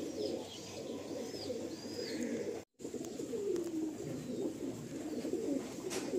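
Pigeons coo softly in a steady low murmur throughout, with faint chirps above and a brief dropout midway.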